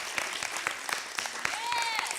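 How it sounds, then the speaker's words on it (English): A small audience gives itself a round of applause at a humor talk, with scattered, fairly light claps and a whistle-like voice tone rising over them. "I want you to give yourself a big round of applause"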